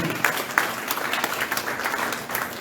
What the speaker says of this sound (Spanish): Den un aplauso grande al Señor en esta mañana.